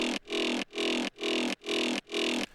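Five punchy big room electronic kick drum hits in an even rhythm, layered, crunchy and bright with lifted highs, each ringing out before the next.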